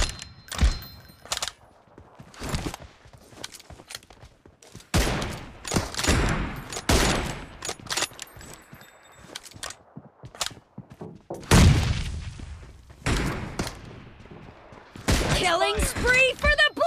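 PUBG Mobile gunfire cracks in scattered single shots and short bursts across a match, loud and close, mixed with impact thuds, while game voice lines call out in between.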